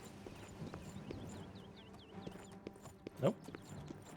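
Horse hooves clip-clop in a rhythmic series in Oblivion, faint under quiet game sounds, followed by a louder thump and a brief spoken word.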